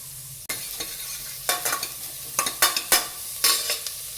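Onions sizzle in hot butter in a pan while a spoon scrapes and stirs in quick, uneven strokes, each stir bringing a louder hiss.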